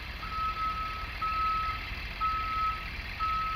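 A bus reversing alarm from a video game beeps in a slow, regular pattern over a steady engine rumble, loud and close.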